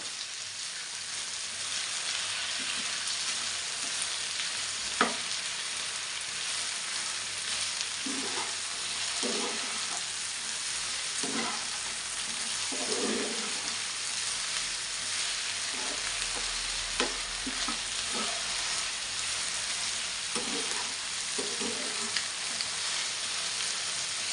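Okra and potatoes sizzle steadily in a hot pan with salt, while a spoon scrapes and knocks against the pan every few seconds, close and even throughout.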